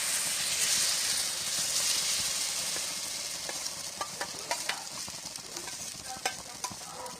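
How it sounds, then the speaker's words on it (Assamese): A potato and vegetable omelette mixture hits hot oil in a pan, giving a strong, continuous close-up hiss and sizzle that slowly settles, scattered with small pops and crackles. "তেলখিনিতে এতিয়া মই এইখিনি মিশ্ৰণটো দি দিছোঁ।"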